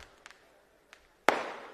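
At a Hindu gathering in Neral, a few faint pops come first, then one loud, sharp firecracker crack bursts close by and rings out briefly over quiet background.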